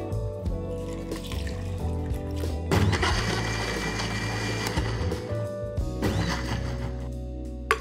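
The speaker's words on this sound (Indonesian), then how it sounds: "Kisar kasar bawang besar dengan air sikit je." A kitchen blender whirs as it coarsely grinds onions with a little water, running in surges with a harsh, churning roar that rises and falls over several seconds, close by and loud.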